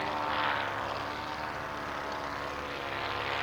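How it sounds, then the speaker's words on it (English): A triplane approaching to land at an evening air display, its propeller engine droning steadily at a moderate distance, a broad airy roar swelling slightly early on and then holding even. "Paul Stowe bringing the road triplane into land."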